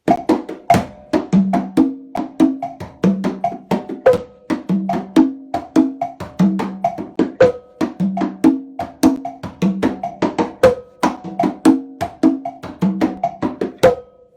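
A sharp wooden clave click pattern starting on the three side (3-2) repeats steadily over a low percussive groove, with crisp accents in a syncopated rhythm throughout.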